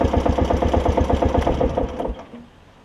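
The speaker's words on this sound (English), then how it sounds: "It's running excellent with that new carburetor. Cleaned out the fuel tank and stuff. Idles down pretty good." A Toro Time Cutter riding lawn mower engine fitted with a new carburetor idles with a rapid, even mechanical chug, then cuts off after about two seconds, leaving near silence.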